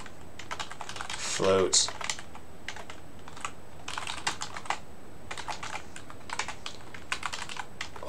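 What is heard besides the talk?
typing on a computer keyboard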